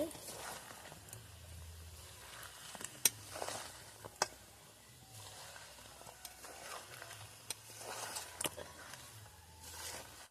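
Raw mango pickle in a pan being stirred with ground spices and black mustard powder, heard as faint, intermittent scrapes and soft sizzling over a low background hum, with sharper spoon strikes now and then.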